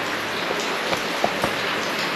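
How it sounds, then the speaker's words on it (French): Steady rain falls outside, broadband patter with a few louder individual drops landing nearby, continuous and without voices. "vu qu'il pleut"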